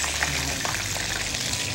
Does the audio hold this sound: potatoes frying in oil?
yes